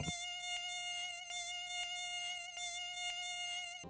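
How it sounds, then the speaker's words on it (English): A mosquito buzzes continuously with a thin, high whine, joined by faint regular clicks and no other sounds. "We are also able to detect the sound of a mosquito from a distance"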